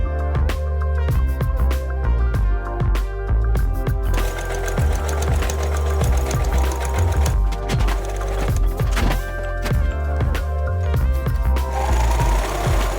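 Sewing machine stitching princess seams in a heavier outer dress fabric, a steady close mechanical whir with rapid needle clatter running almost the whole time, pausing only briefly.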